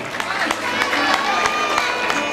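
An audience at a poetry festival in São José do Egito applauds the poets, a steady wash of clapping with sharp individual claps standing out and crowd voices mixed underneath.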